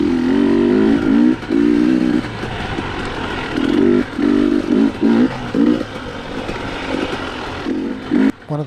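Dual sport motorcycle engine on a trail ride, rising in repeated bursts of throttle with short gaps between as the rider rolls on and off the gas, close and fairly loud.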